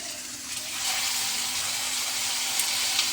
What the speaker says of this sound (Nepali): माछा फ्राई गर्छु।